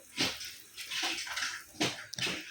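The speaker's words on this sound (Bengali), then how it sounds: "একটা একটা করে আমি সবকটাই দিয়ে নেব, দিয়ে ভালো করে ভেজে নেব" Chicken cheese balls drop one by one into hot oil, each setting off a sharp hissing sizzle that swells and fades, several close bursts in a row.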